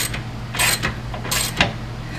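Tightening down the steering rod shaft on a TroyBilt riding lawn mower produces a few short mechanical ratcheting clicks and scrapes, close by, in two brief bursts over a faint steady hum.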